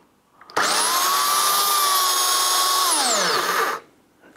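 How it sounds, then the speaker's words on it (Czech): A Bosch GAC 250 electric aerated concrete chain saw motor revs up abruptly, whines at a steady high pitch for about three seconds, then winds down and stops as the chain brake engages. "rozjedu pilu a vypnu řetěz"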